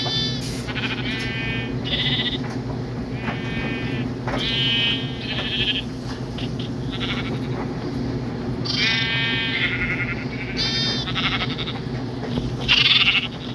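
Sheep bleating repeatedly in Minecraft, several short clipped bleats in quick bursts spread across the clip over a steady low background hum.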